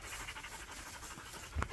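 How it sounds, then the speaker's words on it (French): Dogs pant softly after being let off the lead beside a quiet roadside, a faint steady breathing rhythm close to the microphone, ending with a brief louder bump. "On va pouvoir lâcher un peu les chiens, je pense, ici."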